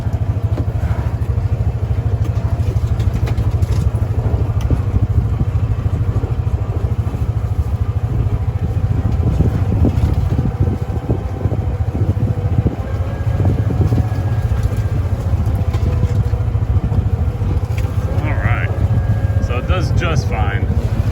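A Kawasaki Mule SX utility vehicle from 2020 drives off-road down a hill, its steady engine drone and low rumble continuous and close throughout, with a faint voice now and then.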